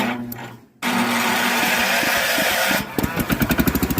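A 1983 Power King garden tractor cold starts in the snow: a brief crank, then the small engine catches into a loud, steady roar before settling into a rapid, rhythmic chugging.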